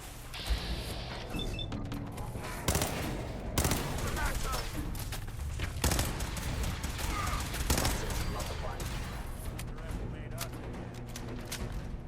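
Sustained gunfire from the video game Fallout 4, rapid automatic bursts and heavy single shots layered over game effects and background music, loud and continuous throughout with a voice speaking at points.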